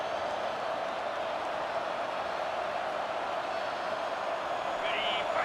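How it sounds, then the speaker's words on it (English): Stadium crowd at a college football game, a broad continuous roar of cheering and applause that holds steady and loud throughout, with no distinct voices standing out. "This crowd bringing the energy and noise early."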